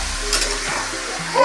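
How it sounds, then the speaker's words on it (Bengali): Food is stirred in a frying pan, a short scrape and shuffle over a light sizzle, close and brief, ending with a small metallic clink. "এইভাবে একটু নাড়াচাড়া করে নেব।"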